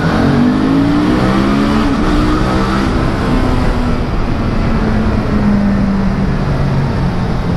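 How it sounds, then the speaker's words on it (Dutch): A Suzuki V-Strom 650 motorcycle engine drones loud and near, its pitch climbing and dipping as it revs through gears, with no speech. "En het geluid van de V-Strom."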